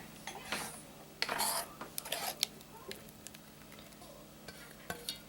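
Vegetables tossed and stirred in a pan for a turkey pot pie, with soft sizzling beneath intermittent scraping and clattering of a utensil against the pan, close and fairly quiet.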